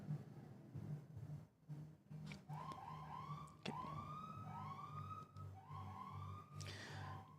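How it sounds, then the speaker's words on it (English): An ambulance siren wails as the vehicle drives down a street in a quiet neighborhood, rising and falling sweeps in repeated cycles, fairly distant over a low steady hum. "that's a ambulance that's driving down the street."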